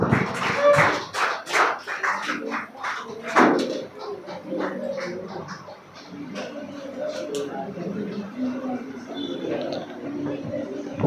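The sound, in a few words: audience clapping for a prize winner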